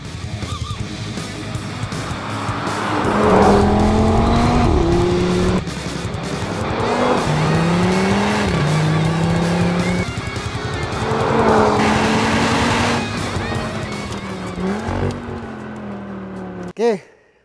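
An Audi TT RS 8S is driven hard on a race track, engine roaring continuously with rising and falling revs as its tires squeal through corners, loud and close, ending abruptly.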